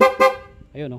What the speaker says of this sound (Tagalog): So magbubusin na tayo mga lodi.